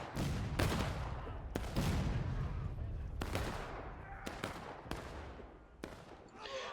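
Musket volleys crack out repeatedly in a video game Civil War battle between Union and Confederate lines, several sharp loud shots and ragged fusillades spread over the clip, with battlefield rumble and distant voices underneath.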